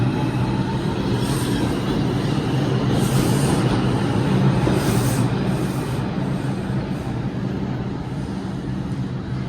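Rumbling and rolling, a New York 2 train moves along a Times Square platform in Manhattan toward the Bronx, with steady wheel noise and a few brief high squeals of wheels on rail, loud and close throughout.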